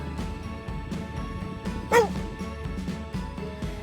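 A dog on a coastal path walk gives a single sharp bark or yip midway, set against steady outdoor wind noise and faint rustling.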